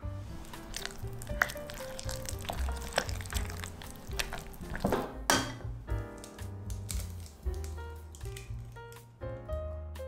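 A spoon stirs oil into thick date paste in a bowl, producing sticky tapping and scraping clicks in an irregular rhythm, close and fairly quiet, with no talking.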